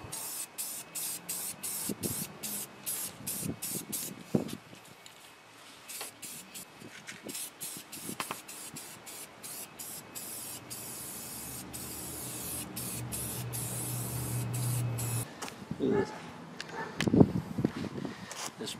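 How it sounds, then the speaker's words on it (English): A spray paint can hisses yellow paint onto a snow plow mounting frame in repeated short bursts and longer sprays, close to the microphone, with rustling and handling noise between. "This spray can is squirting out the top over here somewhere. It's like it's squirting out this way and squirting up."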